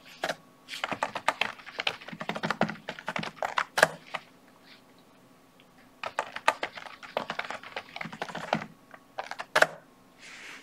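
Typing on a computer keyboard, with two bursts of rapid, close key clicks separated by a short pause.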